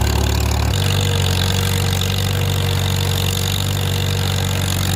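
A tractor engine works hard under load while plowing in fourth gear: a loud, steady, low drone that runs continuously and close, with a slight shift in tone just after it begins.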